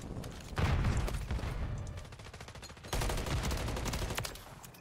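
Rapid automatic gunfire rattles in an Xbox shooter during a ranked match, two loud sustained bursts of repeated shots, close and harsh, with a short gap between them.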